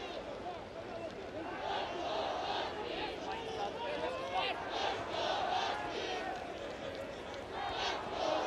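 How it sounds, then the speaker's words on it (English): Stadium crowd at an NCAA men's soccer College Cup semifinal chanting "Let's go Huskies," a distant rhythmic swell of many voices under steady crowd noise, with a commentator talking over it. "Let's go Huskies chant starting to ring out."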